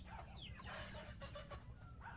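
Two-month-old chickens cluck and squawk in short overlapping calls, soft and fairly close, over a low background hum.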